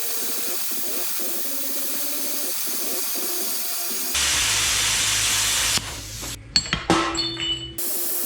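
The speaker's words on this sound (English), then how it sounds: "Those are fresh cut off the plasma cutter" A plasma cutter slicing steel motor mounts for a Chevy S10, a loud steady hissing roar with a low hum that cuts off into clinks and metallic clatter.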